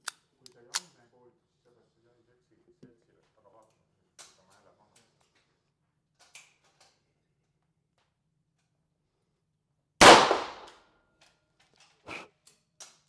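Sharp, sparse gunshot cracks and pops spaced seconds apart from a champion shooter, one much louder burst near the end, with faint quiet sounds between.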